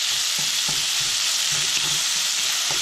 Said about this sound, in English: Let's put a little bit in at a time because there's a whole package of bacon here.